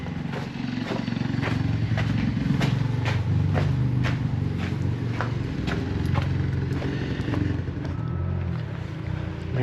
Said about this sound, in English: You can hear the motorcycles firing up.